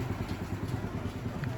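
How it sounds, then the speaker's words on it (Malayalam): Motorized boat at the Pattaya floating market, its engine giving a low, steady chugging rumble that stays fairly faint and even throughout. "ഇതൊരു മോട്ടോർ ഘടിപ്പിച്ച ഒരു ബോട്ടാണ്"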